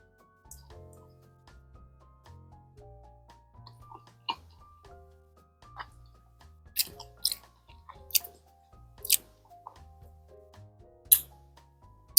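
Someone chews homemade vegan pizza topped with vegan pepperoni, close-up and quiet, with soft squishy mouth sounds punctuated by several sharp crunchy bites from the crispy crust, with no talk.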